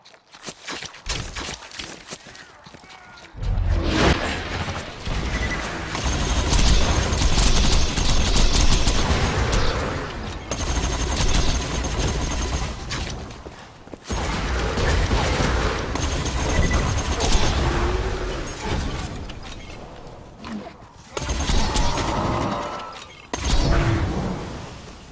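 Dense, sustained gunfire from a fire-element weapon in the Borderlands video game, with heavy rattling bursts broken by short gaps, mixed with footsteps and impacts, loud and continuous through most of the stretch.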